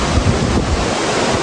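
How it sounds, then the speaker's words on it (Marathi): The Vasundhara waterfall sends clear water crashing in a loud, steady, close rushing roar, with wind buffeting the microphone and no voices. "या वॉटरफॉलचं नाव वसुधारा वॉटरफॉल आहे"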